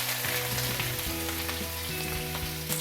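Sliced onions go into hot oil where mustard seeds have already popped, producing a close, continuous frying sizzle with steady crackle and no talking.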